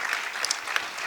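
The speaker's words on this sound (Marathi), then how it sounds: "त्या जोरदार टाळ्या झाल्या पाहिजेत" Audience applause after a natyasangeet performance at the 47th Sangeet Samrat Alladiya Khan music festival, a dense steady clatter of many hands with a few sharper claps standing out, filling the whole brief moment.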